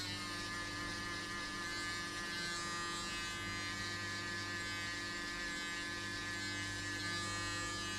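An electric hair shaper buzzes steadily with a constant mains-like hum while cutting hair below the guideline of a burst fade, close and continuous with no talking.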